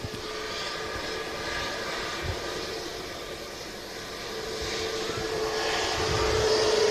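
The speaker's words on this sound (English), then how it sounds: "there's that TAP Neo taxiing in" Steady broadband jet roar of a TAP Neo airliner taxiing at Manchester Airport, a continuous whine and rumble that swells slightly toward the end, heard from a distance outdoors.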